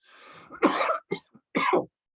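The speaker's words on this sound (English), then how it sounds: "excuse me, I'm going to cough." A person coughs several times up close, a longer rough cough followed by two or three short, sharp ones.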